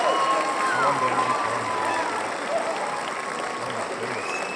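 Loud crowd applause and cheering fill a live open-house session, a continuous wash of clapping with whoops and whistles that eases slightly toward the end, while a voice talks over it.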